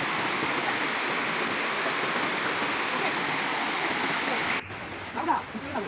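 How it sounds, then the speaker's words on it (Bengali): Horinmara waterfall at Sitakunda, a broad, constant roar of falling water close by that holds steady for over four seconds before suddenly dropping to a softer rush with a few splashes. "দেখতে পাচ্ছেন অস্থির একটা ঝর্ণা আর একটা এখানে"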